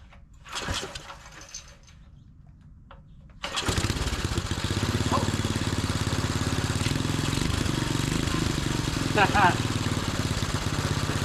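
A 5hp Briggs and Stratton gas engine sputters briefly, then starts and settles into a steady, loud idle that runs continuously.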